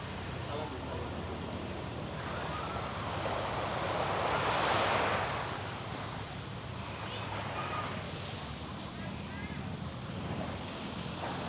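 Ocean surf washes onto a beach on Taliabu. The waves are a continuous rushing wash that swells in the middle, with wind buffeting the microphone and a faint voice in the background.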